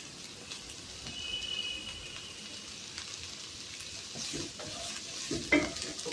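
Crushed ginger, green chilies and curry leaves sauté in hot oil for a prawn and raw banana curry, giving a steady close sizzle with scraping stirs and a sharper clatter near the end.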